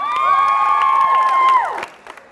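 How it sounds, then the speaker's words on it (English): A high school assembly crowd of students cheers and applauds at a youth motivational event, a loud mass of clapping and shouting with shrill sustained whoops that drops away near the end. "Give her a round of applause."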